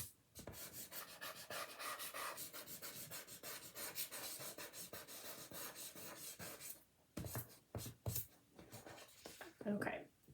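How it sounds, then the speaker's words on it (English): A kneaded eraser brushes over a pencil hand outline on paper in faint, close, repeated rubbing strokes, with a few sharper swipes near the end. "with my kneaded eraser, I'm just gonna brush it over the outline of my hand."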